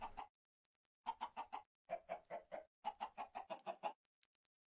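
Chickens clucking in the Minecraft video game, a quick run of sharp, close clucks in several bursts with short gaps between them and no talking.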